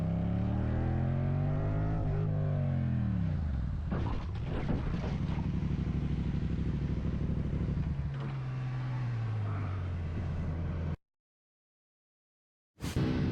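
A motorcycle engine drones loudly up close as the bike speeds through heavy traffic and overtakes vehicles on curves, its pitch sweeping up and down through gear changes, then cutting off abruptly before a brief burst returns.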